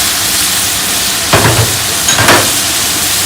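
Ground curd and tomato paste sizzling in a large pot of mushroom biryani for 10-15 people, a steady frying hiss with two brief louder surges of crackle.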